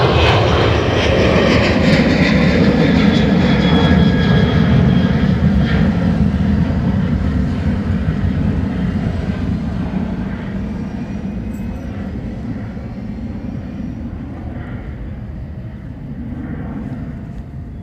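A plane at Dublin Airport roars loudly with a broad engine rumble that slowly fades as it moves away, leaving a lower steady drone.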